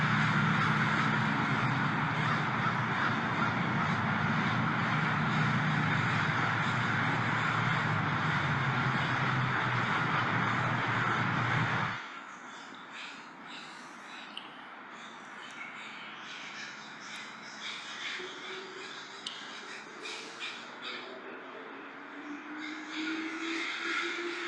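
Thousands of crows massing at a nightly roost in Seattle, a dense continuous din of overlapping caws that drops abruptly partway through to a thinner, scattered chorus of calls from many birds.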